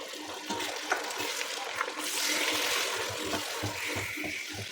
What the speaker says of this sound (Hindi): 2 से 3 मिनट हमने अच्छी तरह से भून लेना है मटन को अदरक लहसुन के पेस्ट के साथ